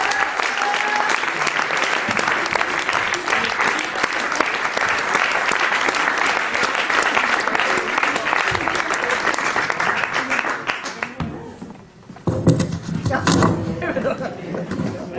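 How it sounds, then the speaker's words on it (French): A crowd at a live show applauds the performer Piéton with loud sustained clapping mixed with scattered laughter and chatter, then a brief lull before the clapping swells again. "Continuez à applaudir pour Piéton"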